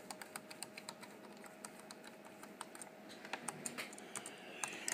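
Keys clack on a Dell Latitude C800 laptop keyboard in a quick, uneven run of crisp taps, close up, growing slightly louder and denser toward the end over a faint steady hum.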